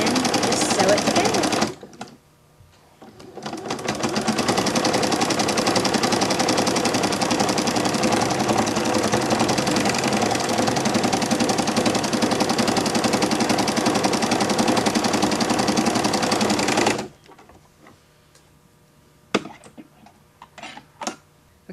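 A sewing machine stitches a half-inch seam through rag quilt squares, a steady close mechanical whirr running unbroken for about fifteen seconds before stopping, followed by a few soft clicks and handling noises.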